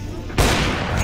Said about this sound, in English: Sniper.